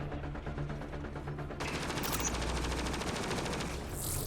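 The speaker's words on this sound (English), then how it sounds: "Who are you shooting at?" Rapid automatic gunfire in the sci-fi shooter Mass Effect Andromeda, a steady rattling burst that grows denser and louder halfway through and keeps going as a continuous volley over game ambience.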